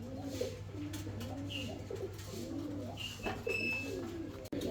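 Fancy pigeons coo repeatedly in soft, rolling phrases close by, layered over one another with a steady low hum in the background.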